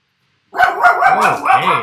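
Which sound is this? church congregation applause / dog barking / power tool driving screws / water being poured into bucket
dog barking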